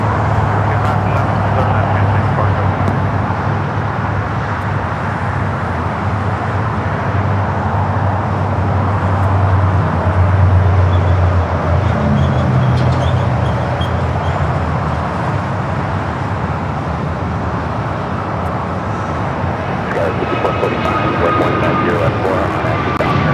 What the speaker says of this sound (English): Next takeoff, American flight 345 heading to Miami and A321neo.